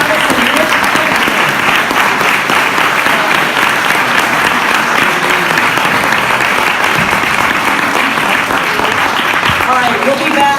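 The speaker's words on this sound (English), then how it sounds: "Can we have a round of applause for Skylar Thomas and Rich Pennington?" A festival audience at a panel discussion claps for the panelists, loud and sustained, with a crowd murmur and scattered voices mixed into the dense applause.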